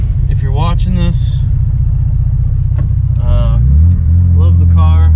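A 1960 Jaguar MK2 engine runs while driving, a loud, close low rumble that rises in pitch partway through as the car accelerates, with people talking over it.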